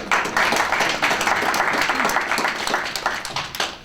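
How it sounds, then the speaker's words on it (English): Audience members give a round of applause during a Q&A on faith and courage; continuous, fairly loud clapping from a crowd carries throughout, tapering slightly toward the end. "I appreciate if everyone give a round of applause for how much this needs to be heard"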